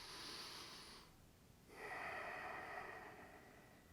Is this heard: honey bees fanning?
no